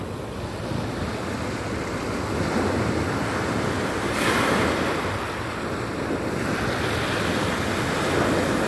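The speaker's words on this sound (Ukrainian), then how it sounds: "Ми чуємо тільки море." Continuous sea surf washing onto the shore, a steady loud roar of breaking waves with wind noise over the microphone and a swell around the middle, with no voices.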